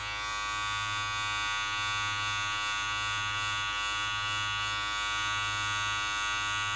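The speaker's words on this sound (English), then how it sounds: "I'm gonna start off with my clipper first" An electric hair clipper buzzes steadily at close range while cutting hair, a constant even motor drone with no speech.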